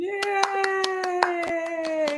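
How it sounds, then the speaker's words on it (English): A small group claps to welcome a guest on a show, with about a dozen distinct handclaps at a steady rhythm over a sustained tone, close and moderately loud. "Let's give it up for Miss Kiana Farley"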